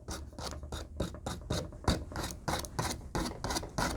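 A palette knife scratches paint across a canvas in quick, repeated rasping strokes, close and fairly loud, with an uneven but steady rhythm and no voices.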